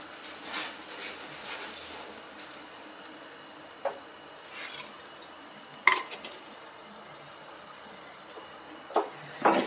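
Sheera, a semolina halwa, is stirred in a pan with a spoon, giving sporadic scraping and clinking strokes over a faint, soft background sizzle, with no voices.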